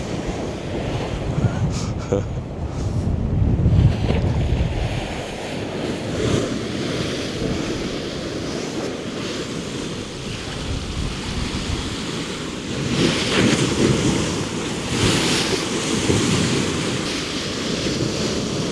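Storm waves crash and surge against the Lake Erie shoreline and seawall in December, a continuous loud roar of surf with heavier bursts, mixed with strong wind buffeting the microphone.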